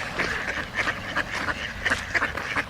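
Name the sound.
ducks quacking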